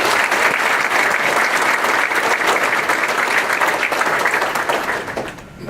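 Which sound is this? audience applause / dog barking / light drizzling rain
audience applause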